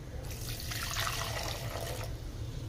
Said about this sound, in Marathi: आता हा जो आहे ना त्यात थोडं आपण पाणी टाकूया.